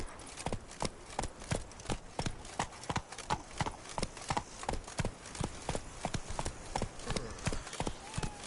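Roach, Geralt's horse in The Witcher 3, gallops with rapid, rhythmic clip-clop hoofbeats that stay close and fairly steady for the whole stretch.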